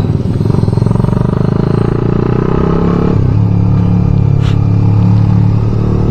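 A Suzuki GSX-S150 motorcycle fitted with a Yoshimura R11 muffler idles and rumbles close by, a loud steady low exhaust throb with slight changes in pitch and no talking.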